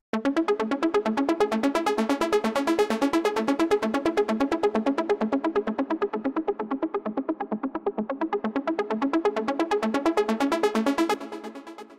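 A detuned synth arpeggio from the Diva synth, a deep and melodic house preset, cycles rapidly through bright, buzzy notes in a relentless even rhythm, loud and alone, then tapers off briefly at the close.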